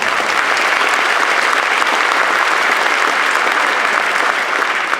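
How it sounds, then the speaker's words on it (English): Sustained, dense applause from a large audience at a 2015 convocation ceremony, steady and loud from start to finish with no pauses, a broad wash of many hands clapping together. "give yourselves a big round of applause"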